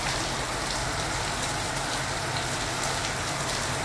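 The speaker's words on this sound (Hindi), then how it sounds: "इतनी तेज बारिश बरस रही है" Heavy rain pours down steadily, a dense, loud hiss of drops drumming on surfaces with no pauses.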